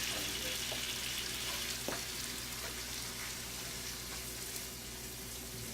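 Peppers frying in hot oil for a vegetable chop suey, a steady dense sizzle that holds level throughout with a few faint utensil clicks, close and continuous with no talking.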